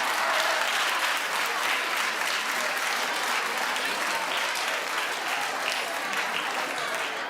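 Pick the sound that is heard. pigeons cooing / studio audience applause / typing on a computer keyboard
studio audience applause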